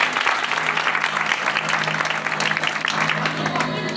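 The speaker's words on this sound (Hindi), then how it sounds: "जोरदार तालियां खुदा के जलाल के लिए बजाएंगे" A church congregation at a Pakistani Christian gathering gives loud, sustained applause, a dense wash of clapping that stays even for several seconds, with a voice faintly mixed in.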